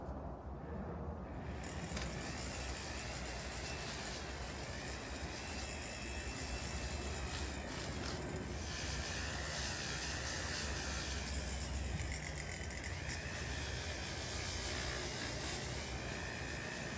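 A rotary wheel fitted with 400 grit abrasive shapes a small rosewood burl miniature, giving a steady, loud whirring grind with a broad hiss that holds continuously throughout, no voices.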